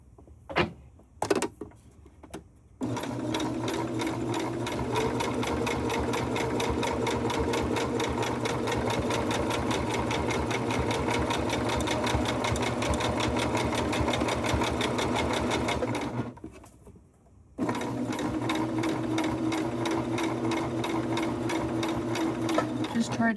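A sewing machine zigzag-stitches coiled rope for a rope bowl, running in a long steady rapid whir after a few short starts, pausing briefly, then resuming, with a voice talking over it.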